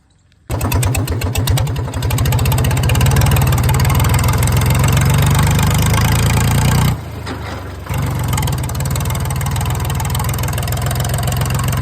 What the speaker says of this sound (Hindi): फाइनली गाइस हम अपने ट्रैक्टर को ले चल रहे हैं अपने टोचन ग्राउंड पे